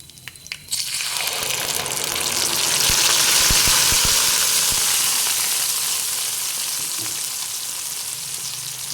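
Ground chutney hitting hot tempering oil in a pan sets off a loud, steady sizzle that swells after a sharp start and holds with light crackling, heard alone at close range.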